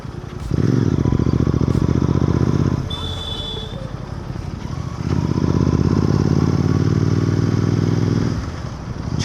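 A Royal Enfield GT 650 motorcycle rides through town, its engine note loud and steady close up, easing off midway as the rider slows for speed breakers and then pulling strongly again.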